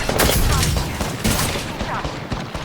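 Gunfire in a video game, fast bursts of shots and booms piling up closely and loudly, with brief voice underneath.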